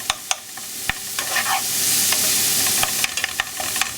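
Stirring pasta and fava beans in a sizzling pan: a steady fry hiss with scattered scrapes and clicks of a utensil against the pan, close and fairly loud, no voices.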